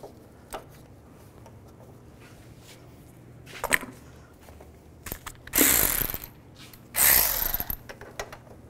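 Ratchet with a 15 mm socket on an extension loosening the tensioner bolt on a 2010-2017 Chevy Equinox engine, heard as brief clicking bursts, then two louder, longer rasping ratchet runs close by.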